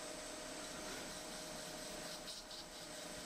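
Knife scales being profiled on a coarse-grit grinder give a constant, even machine drone with a faint steady whine on top, moderately quiet and uninterrupted, with nobody speaking.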